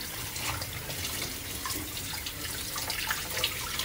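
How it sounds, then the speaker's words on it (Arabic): Tap water runs steadily into a kitchen sink while raw chicken is being washed, a continuous close splashing rush with occasional louder spatters, and no talking. "اغسل الدجاج"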